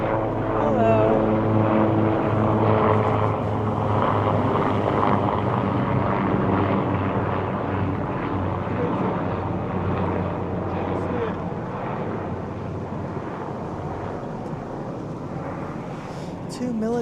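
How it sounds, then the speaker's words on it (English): Two military helicopters pass overhead outdoors near a garden, a steady loud rotor and engine drone filling the whole stretch with faint voices beneath. "2 military helicopters."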